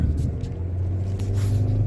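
Steady low engine and road rumble from inside a car being driven along a road in Goa, constant and close with no talk.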